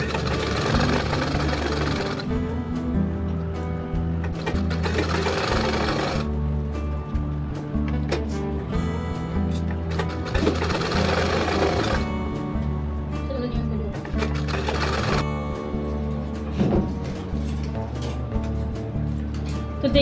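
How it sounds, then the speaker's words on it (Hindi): A sewing machine stitches a ladies' shirt in bursts of steady mechanical whirring, stopping and starting several times while someone talks throughout. "इस तरह से अभी हम इस पे दाब पट्टी सिलाई ले लेंगे तीन तरफ से"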